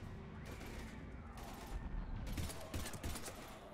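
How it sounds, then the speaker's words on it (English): Gunfire in the Mass Effect shooter game amid a firefight with husks: rapid bursts of automatic shots crackle in several clusters over a rumbling battle din, loud and close. "We're taking heavy fire."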